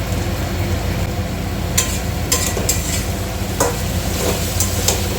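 Spice masala stir-fried in a pan, a dense continuous sizzle with sharp scraping strokes of a spatula every second or so, close and fairly loud, with no voices.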